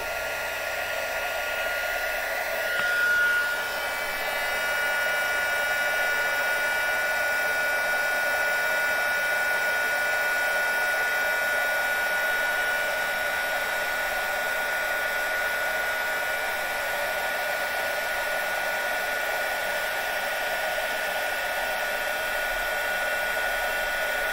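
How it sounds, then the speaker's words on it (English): A heat gun blows steadily for about twenty seconds to melt white embossing powder on a card, a constant close whooshing hum with no talking. "I've used white embossing powder, and I'm going to use my heat gun."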